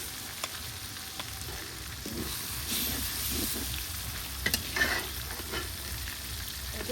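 Potatoes fry steadily in a pan, giving a continuous dense sizzle with occasional stirring scrapes and pops, close and fairly loud throughout, with no talk.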